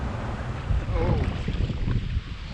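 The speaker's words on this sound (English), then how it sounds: "The wind has picked up moderately." Moderate wind buffets the microphone on the Connecticut River while kayaking, a steady low rumbling gust that is loud and close, with faint water sounds beneath it.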